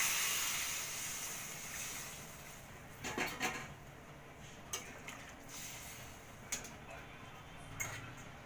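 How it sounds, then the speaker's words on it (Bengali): Hot water is poured into a pan of spiced rohu fish curry with ginger, giving a steady broadband rush and hiss that fades over time, with a few faint clicks and no talking. "এই গরম জলটা আমার তরকারির মধ্যে ঢেলে দেব"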